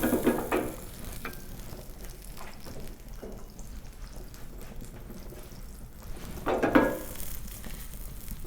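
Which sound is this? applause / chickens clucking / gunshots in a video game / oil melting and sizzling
oil melting and sizzling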